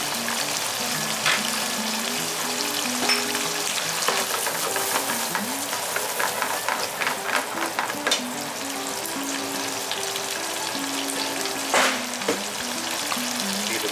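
White wine hits a hot pan for snow crab linguine, setting off a loud, steady sizzle and crackle that runs throughout with scattered stirring clatter, and no voices.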